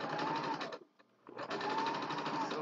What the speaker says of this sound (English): So I'm just sewing.